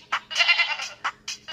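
A goat in the mobile game Goat Rush 3D Simulator bleats several times: short, bright, nasal cries, one drawn out longer than the rest, heard close and clear with no talking.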